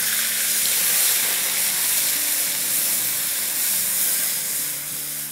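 Half a cup of grated onion, from one large onion, sizzles steadily in hot oil during a fish fry masala curry, giving a loud, continuous frying hiss with no voices.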